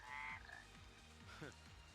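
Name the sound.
mud frog croaking in Final Fantasy XIII video game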